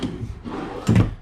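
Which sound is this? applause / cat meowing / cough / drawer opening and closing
drawer opening and closing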